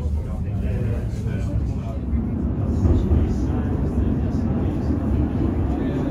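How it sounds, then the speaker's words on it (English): A funicular train of the Cairngorm Mountain Railway in Scotland climbs a steep track towards Ptarmigan, a steady low rumble and rolling drone heard close with a constant mechanical whine above it. "the track and the train begin its steep climb towards Ptarmigan"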